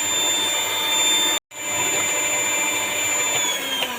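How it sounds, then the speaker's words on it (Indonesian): A mixer beating eggs at top speed drones steadily and loudly, a constant high whine broken by a single brief cutout partway through. "Kita mixer dengan kecepatan paling tinggi"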